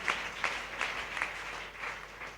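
Congregation clapping at a Friday church meeting to glorify God, a steady rhythmic beat of hand claps, moderately distant and fairly soft, with no talk over it.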